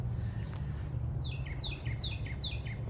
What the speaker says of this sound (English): you can hear this pretty bird up in the tree